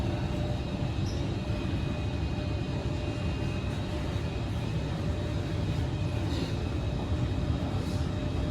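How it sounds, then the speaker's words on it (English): Singapore MRT C151A train running on the eastbound track between Queenstown and Buona Vista: a steady, broad rumbling roar of rail traffic that holds constant throughout, with no speech. "There's the other train running between Queenstown and Buona Vista on the eastbound track"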